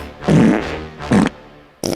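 Comedic fart sound effects in a podcast intro: two loud, close, sputtering blasts separated by a pause, then a third sharp burst cut short at the end.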